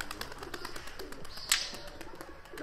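Tumbler pigeons coo softly at close range, with faint rhythmic taps and a brief sharp chirp partway through over quiet background noise.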